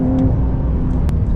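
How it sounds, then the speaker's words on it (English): Flat-six engine of a 2023 Porsche Carrera T with manual gearbox and forced induction, humming steadily and loud close by as the car drives, with a brief sharper whir near the end and no talk. "tell me that's not one of the best sounding 6-cylinders you've ever heard."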